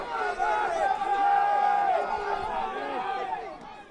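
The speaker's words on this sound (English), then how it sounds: "The crowd getting into it as well, you can tell from the background" A crowd at a Gaelic football final between Ashbourne and Kilkenny in the Provincial Towns Cup, a broad roar of cheering that swells and then holds steady under a commentator's voice.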